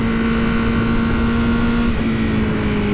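2020 Honda Fireblade race bike engine while riding, a loud steady high-pitched drone with wind rush, holding a near-constant tone for three seconds.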